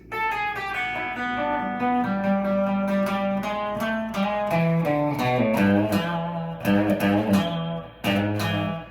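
A distorted electric guitar plays a bending lead lick from a solo, notes sliding and sustaining, then a few choppy stops near the end, no voices.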